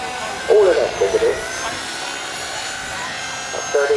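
A MARS 480 model helicopter flies at an outdoor model show, a steady buzzing rotor and motor drone running throughout at moderate distance, with bursts of nearby talk over it.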